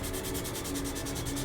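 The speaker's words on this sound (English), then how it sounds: "Just that little 5 seconds of sanding." Steady abrasive rubbing from sanding the plastic surface of a 1/72 B-2A stealth bomber scale model, a close, continuous scratchy hiss with a faint rhythmic back-and-forth pulse and no talking.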